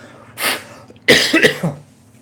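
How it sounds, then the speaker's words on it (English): Two harsh, close coughs: a single bark-like cough, then a rougher burst of several rapid coughs. "Kind of got a cough."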